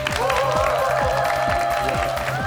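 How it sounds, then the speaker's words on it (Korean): A studio audience on a Korean quiz show applauds for the two contestants. The clapping is steady and moderate, mixed with a continuous musical tone and faint crowd sounds. "열심히 문제 풀어주신 두 분께 다시 한번 뜨거운 박수 부탁드립니다."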